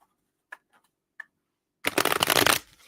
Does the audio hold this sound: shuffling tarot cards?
yes